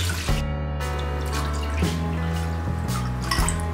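Water is poured from a cup into a pot of rice for chicken pilaf, a steady splashing trickle running for several seconds at close range, with no talk.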